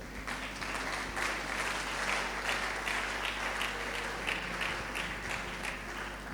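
Church congregation applauding during a French-language worship service, a steady, soft wash of clapping from many hands heard from a distance.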